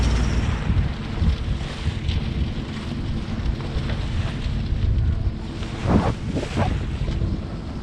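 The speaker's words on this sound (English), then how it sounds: "The seas aren't bad, like they're mostly wind waves, like about a foot and a half maybe, but just slow going" A sailboat motoring at slow speed into choppy wind waves about a foot and a half high, with a steady low engine drone under constant wind rush and sloshing water, plus a couple of brief splashes near the end.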